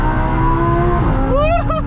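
Audi R8 V10 engine revving hard to 8,000 RPM, a loud close howl rising in pitch, then a quick shift and renewed climbing wail, alone without talk.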